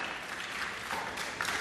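A crowd applauds at a 2006 US Open racquetball semifinal, a brief burst of steady clapping that swells slightly near the end.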